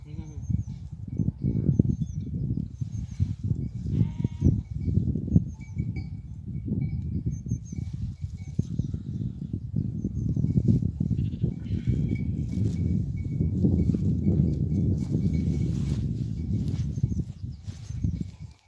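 A flock of sheep grazes on open pasture with a shepherd, scattered bleats and soft rustling of feeding animals carrying on steadily, a few voices talking in the background.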